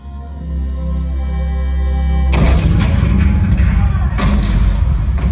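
In Disneyland's Great Moments with Abraham Lincoln show, a low rumbling drone gives way to heavy, booming Fort Sumter cannon fire with sharp blasts and a sustained roar, loud and dense throughout.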